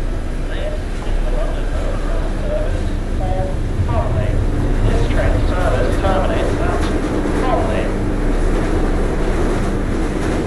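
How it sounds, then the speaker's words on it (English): A moving train in the game Fallout London: a steady low rumble and clatter of rolling rail carriages runs throughout, with faint tonal squeals and creaks in the middle, and a voice talks briefly over it. "Hang on, the train is moving."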